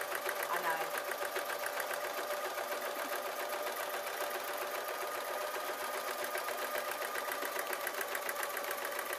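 A sewing machine stitches oil cloth for an apron, humming with a rapid, steady needle rhythm close by for the whole stretch.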